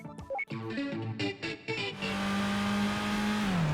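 An 81-horsepower Mazda Demio in Gran Turismo, heard first as a few choppy revs and then as a steady, strained engine drone as the car accelerates, loud and close.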